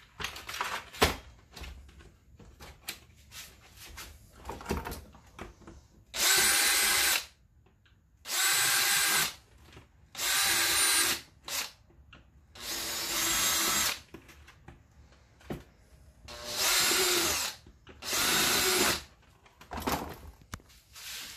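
A power drill bores holes in a plastic poultry processing cone in repeated loud bursts of one to two seconds each, separated by shorter clicks and handling noises, with no talking.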